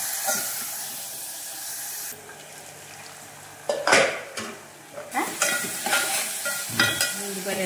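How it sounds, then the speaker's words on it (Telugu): Onions frying with salt and turmeric in a pan, a steady sizzle under repeated scraping and stirring, with spoon knocks against the pot growing busier toward the end. "సాల్ట్ పసుపు వేసి ఇలా ఫ్రై చేసి"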